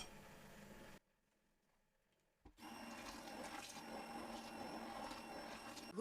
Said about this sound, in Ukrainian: І збиваємо блендером.